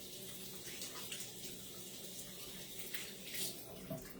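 Tap water runs quietly as hands are washed, a soft continuous splash with small shifts in the flow, faint and close.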